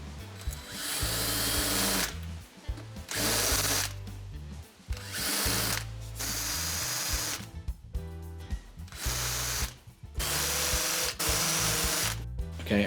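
A power drill countersinking holes in wood whines in repeated bursts of a second or two, starting and stopping over and over with short pauses between runs.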